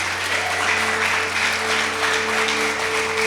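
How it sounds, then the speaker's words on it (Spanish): A church audience gives a strong round of applause for the team, a loud, dense, continuous clapping that holds steady throughout over a faint steady hum. "quiero que le demos un fuerte aplauso a todo nuestro equipo"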